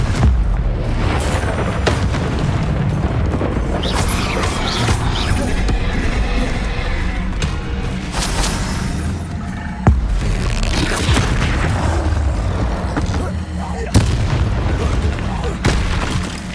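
Confringo explosion spells cast in the video game Hogwarts Legacy, a dense barrage of booming blasts and magical whooshes with sharp impacts every few seconds, loud and continuous under game music and a voice calling out.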